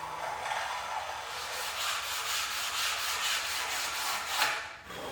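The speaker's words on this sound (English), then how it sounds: "give everything a really, really good sand." Hardwood stair treads and risers are sanded in a steady, close rubbing hiss with gentle rhythmic strokes that continue for several seconds, then briefly dip near the end.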